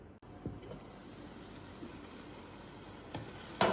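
Prawns and ridge gourd fry in a pan with a soft, continuous sizzle and a few stirring clinks, ending in a sharper burst of sizzling.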